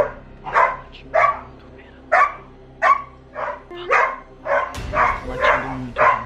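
A dog barks repeatedly, about ten sharp barks in a steady rhythm, fairly close, over a low background hum.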